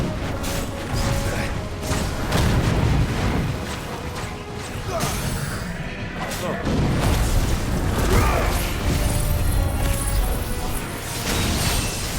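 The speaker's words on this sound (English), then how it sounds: "If you're wondering what's happening in the background, fireworks is happening." Fireworks go off in the background during play of the video game Final Fantasy XVI, a dense, continuous stream of booms, crackles and pops lasting throughout with no clear gaps, heard under game sounds and a voice talking.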